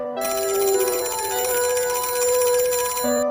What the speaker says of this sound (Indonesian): Akhirnya Citizen melihat tim Garnet dan menghubungi mereka melalui telepon umum yang ada di dekat mereka